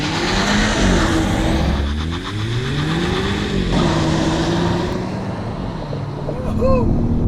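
A 2020 Polestar One hybrid sports car with a twin-charged 2-litre engine revs and accelerates, pitch climbing through gear shifts, loud and close, with a person's voice talking over it.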